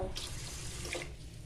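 Tap water pours into a rice cooker pot in a steady, close, continuous rush that lasts a second and a half.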